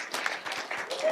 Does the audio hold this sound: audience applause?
yes